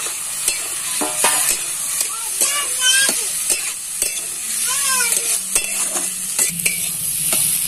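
Potatoes fry and get stirred into a spiced masala for aloo dum in a village kitchen, with close sizzling, repeated scraping and clinking of a utensil against the pan, and irregular stirring strokes throughout.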